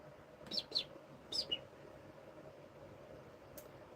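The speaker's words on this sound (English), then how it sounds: "I love that the birds are back." Birds chirp outdoors in a few short, faint tweets clustered early, then one more brief call later, over a steady low background hiss.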